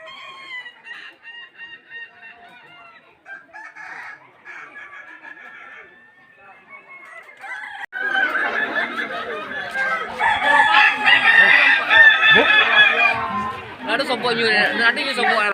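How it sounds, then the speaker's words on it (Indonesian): Kukuak balenggek roosters at a crowing contest call over one another, long rising crows overlapping loudly and close, with people chattering throughout the arena. "suara kokok bersahutan, menambah semangat di arena lomba hari ini"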